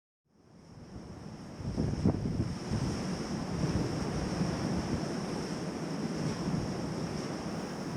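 Strong wind buffeting a microphone beside Shoalstone seaside pool, a rising then steady roaring rush with surf-like texture, loud and close, with no talk.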